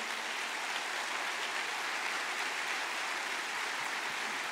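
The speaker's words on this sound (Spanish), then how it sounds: "Dele fuerte ese aplauso al Señor." A church congregation applauds at a Spanish-language service, a dense, even roar of clapping that holds steady and fairly distant for several seconds without pause.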